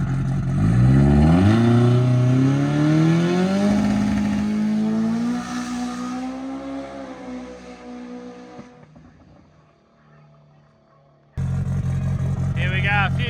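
A drag race car's boosted engine accelerates hard and loud, its rising pitch climbing across several seconds before fading, followed by an abrupt return of strong engine roar near the end.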